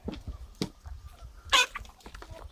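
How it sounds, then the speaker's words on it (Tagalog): Chickens on a small farm cluck and call close by in short scattered bursts, with one louder squawk in the middle, over a faint background. "Akong mga manok guys."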